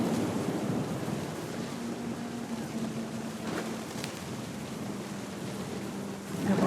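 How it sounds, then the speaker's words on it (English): Thunder in the video game What Remains of Edith Finch, a low, continuous rumbling roar mixed with wind and surf-like wash, loud and sustained with a faint hum underneath. "The thunder sounded much too close and full of angry power"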